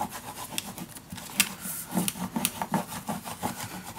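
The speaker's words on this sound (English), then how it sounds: "the best way to burnish it all down is to be as close as possible." Paper being burnished down onto a page of a steampunk dos-a-dos scrapbook mini album makes close, repeated rubbing strokes in an uneven rhythm, each a dry scuffing swish.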